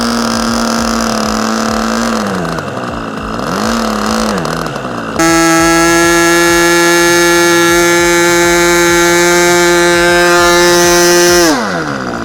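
A small engine on a giant RC Piper Cub model plane idles with a buzzing drone that wavers in pitch, then revs up sharply to a loud, steady high-pitched whine before dropping back near the end.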